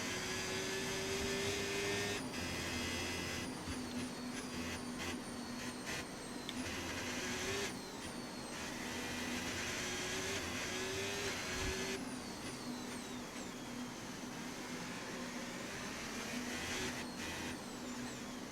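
An F1 car lapping Monaco in the F1 25 racing game holds a continuous high engine whine that rises and falls through gear changes and corners, steady and moderately loud throughout with no voices.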